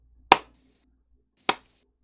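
Two sharp hand claps about a second apart, close and loud in a quiet room, a lone person mimicking the start of applause for someone entering.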